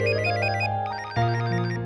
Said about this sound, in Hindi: देख देख, तेरा अश्विन सर का फोन होगा